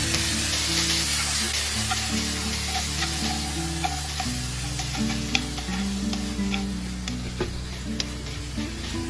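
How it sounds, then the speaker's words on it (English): Beef with onion and bell peppers stir-fries over high heat, a loud steady sizzle layered with repeated scraping and clinking of the spatula against the pan, with no talking. "stir quickly over the high heat to the stir-fry sauce to absorb all the ingredients"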